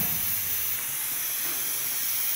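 A pot of liquid coming to a boil in a home kitchen, rising toward the rim, gives a steady, loud hiss and bubbling roar that holds evenly throughout with no talking.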